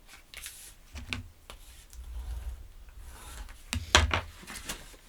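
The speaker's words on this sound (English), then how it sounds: "then I take my bone folder and burnish right on that hinge" Bone folder burnishing the hinge of a paper mini album cover: soft dry rubbing and scraping strokes close by, with a few sharper papery scuffs and taps scattered throughout.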